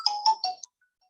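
A mobile phone ringtone sounds during a lecture, a short bright melodic chime of three or four quick notes, clear and close, followed by silence.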